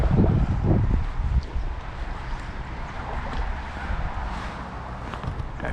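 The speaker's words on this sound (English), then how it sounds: "The wind is brutal. This wind is a pain in the ass." Strong night wind buffets the microphone during salmon fishing, a steady loud rumbling roar with heavy gusts at the start, easing slightly but continuing throughout with faint rustling.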